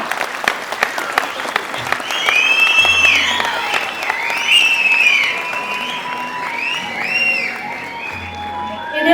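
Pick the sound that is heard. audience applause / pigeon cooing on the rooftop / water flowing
audience applause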